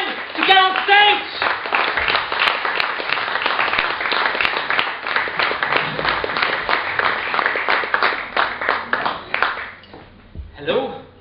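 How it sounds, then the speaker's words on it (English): Studio audience at a live talk show applauding a guest coming on stage, dense sustained clapping with some cheering for most of the stretch, loud and close before tapering off near the end. "And I would like to have a big, big, big, big applause for Régine DEBATTY,"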